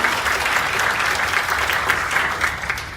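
Dense audience applause welcomes a guest at a partnership ceremony at Good Mall in Yeongjong-do's Midan City, a steady, full wash of many hands clapping for three seconds without a break and no talking over it.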